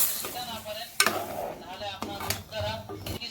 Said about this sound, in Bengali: ফোড়নগুলো আমি মিশিয়ে দিচ্ছি।